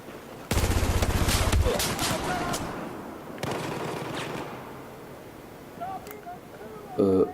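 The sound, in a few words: Famas rifle gunfire in the video game Battlefield 4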